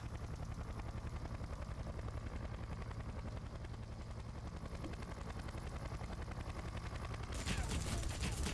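Helicopter in the game Splinter Cell Conviction, a steady rotor drone beneath rapid gunfire bursts throughout, with a louder, brighter burst of noise near the end.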